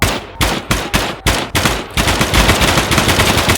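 Gunfire from a gun in the video game Gunsmith Simulator: five loud, evenly spaced single shots, followed by a rapid automatic burst that continues to the end, close and alone with no talking.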